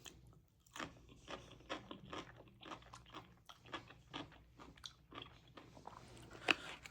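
Pickles crunched and chewed up close, a run of crisp bites and wet chewing in an irregular rhythm, quiet and alone with no talking.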